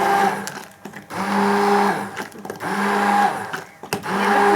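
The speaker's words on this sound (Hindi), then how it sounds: "अब हम इसको ब्लेंड कर लेंगे।" A kitchen blender whirs through a caramel kheer mixture in several bursts, its motor whining loudly, cutting out briefly and then starting again.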